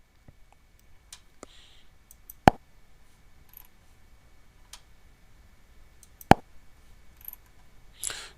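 A computer mouse clicking in a quiet room, a few sharp isolated clicks spaced seconds apart with faint ticks between.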